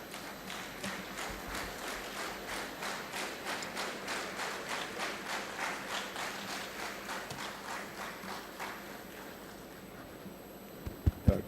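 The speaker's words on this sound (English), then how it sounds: "Clapping in advance." An audience at a bank retirees' federation conference claps in a steady, even rhythm, a fairly faint and roomy wash of hands that fades toward the end, followed by a couple of louder thumps.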